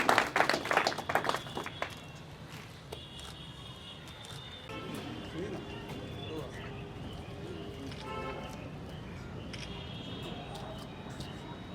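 Loud burst of applause welcoming the keynote speaker, a college principal, at a Darbhanga institute event, clapping dense at the start then fading within two seconds into a quieter hall with murmuring voices.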